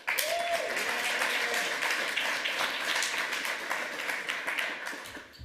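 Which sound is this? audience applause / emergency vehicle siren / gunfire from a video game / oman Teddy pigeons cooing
audience applause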